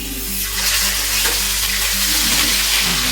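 Pre-boiled chicken pieces fry in a small amount of hot oil in a wok for Arabic chicken mandi biryani. A steady, loud sizzling hiss fills the whole stretch, close and without talk.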